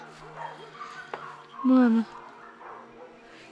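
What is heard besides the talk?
dog barking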